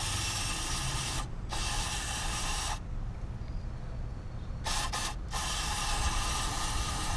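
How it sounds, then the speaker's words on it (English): CRC mass airflow sensor cleaner sprayed from an aerosol can onto the MAF sensor of a 1992-97 Subaru SVX, heard as close, loud hissing bursts of varying length separated by short pauses. "Let's spray the whole sensor down"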